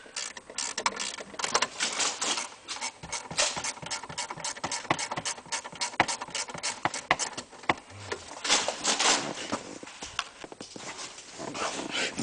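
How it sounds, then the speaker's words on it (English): A ratcheting gear wrench working 7mm and 8mm bolts during a remote start install on a 2014-2015 Ford Fusion, giving rapid bursts of sharp clicking in uneven runs, close up, with no speech. "so we're going to use our gear wrench."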